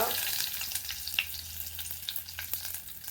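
Mustard seeds spluttering in hot oil, a steady crackle broken by frequent sharp pops, close and fairly quiet, with no voices.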